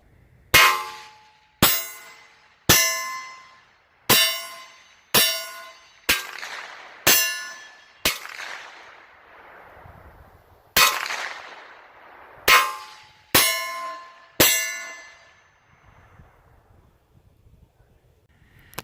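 Gunshots strike mild steel target plates from roughly 30 to 40 yards, giving about a dozen sharp metallic clangs, each ringing out and decaying, spaced irregularly across the clip with quiet gaps between.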